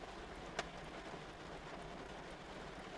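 Steady rain pours down outside, a dense, even hiss of falling water heard from indoors, quiet and continuous, with one faint sharp tick near the start and no voices.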